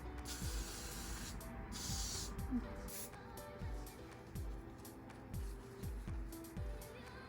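Bursts of hissing aerosol hair spray in short blasts during a lace frontal wig install, with a voice speaking underneath throughout.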